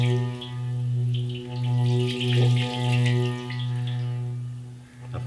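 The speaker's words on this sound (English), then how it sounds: "play a little bit harder so the water shoots up." An antique Himalayan singing bowl, played hard enough to make water shoot up, rings with a sustained, pulsing hum that swells and dips rhythmically, with faint splashing over it.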